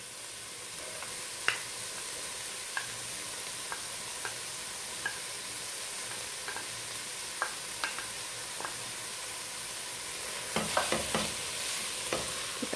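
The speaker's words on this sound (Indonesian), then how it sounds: "Kita aduk." Frozen vegetables fry in a pan with tomato, a steady hiss of sizzling broken by scattered clinks and scrapes of a spoon stirring, busier toward the end.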